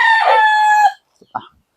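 A backyard gamecock crows once, loud and close, a long harmonic call lasting most of a second before breaking off, followed by a couple of faint clucks.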